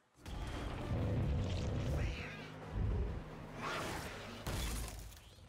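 In the animated series Arcane, a cat lets out a rising meow amid loud crashing and shattering noises, with heavy rumbling impacts before and after.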